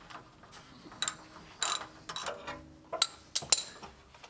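Wrench ratcheting on a bolt holding the skid plate under a Toyota 4Runner, 5th generation, during an oil change; several short, close metallic ratchet clicks in separate bursts over a quiet background.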